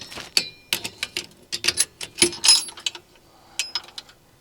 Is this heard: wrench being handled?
yes